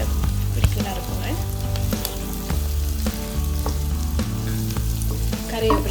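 Curry leaves and green chillies sizzle in hot oil with onions in a pan, a steady loud frying hiss broken by periodic stirring scrapes and clinks, close up, with no talk.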